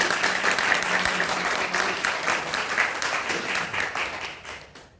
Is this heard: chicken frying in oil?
no